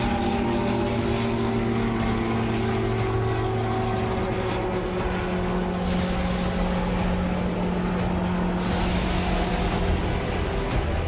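A Heron drone's propeller engine drones steadily at a Kashmir forward base, a constant loud, even hum with whooshing swells as it passes.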